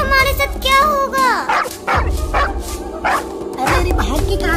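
A cartoon dog barks repeatedly while chasing kittens, with quick yipping barks mixed in among animated voices talking over the chase.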